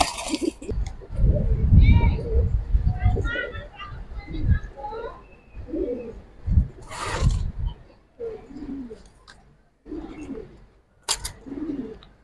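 Silver pigeons in a loft cooing in short, soft murmuring bursts at close range, interspersed with nearby people talking and a few sharp clinks.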